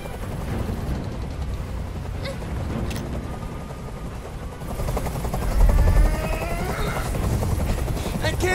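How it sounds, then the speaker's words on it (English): Steady thudding rotor drone of a hovering helicopter in the video game Detroit: Become Human, continuous and loud, swelling slightly partway through, with faint rumbling effects beneath. "Tell that helicopter to get out of here!"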